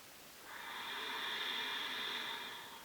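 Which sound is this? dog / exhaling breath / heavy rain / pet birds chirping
exhaling breath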